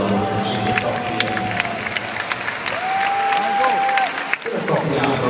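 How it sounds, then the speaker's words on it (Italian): Crowd applause with some cheering for the finalist couples at the 2013 Italian dance championships, a busy clapping texture, with whistles or tonal calls cutting through and voices in the hall. "un applauso a queste 5 coppie"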